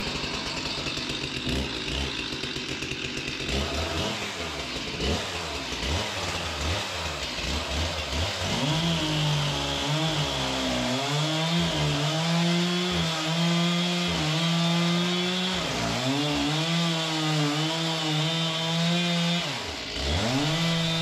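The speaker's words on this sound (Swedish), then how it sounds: "Jag sågar av stocken på mitten så blir det inte riktigt lika mycket svinn." A WoodMizer LT15 sawmill cuts through a log, its engine droning steadily and pitching up and down under load, loud and close for the whole stretch without talk.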